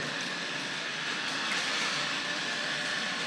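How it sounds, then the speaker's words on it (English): A Tri-ang model railway suburban train runs along the track with a steady, close, continuous rumbling whir and no break in the sound. "we'll be able to get the Suburban train on the move"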